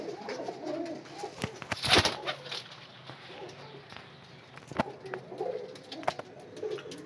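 A Teddy pigeon breeder pair coos softly at close range, with repeated low, throaty calls and occasional wing flutters or shuffling over faint background noise.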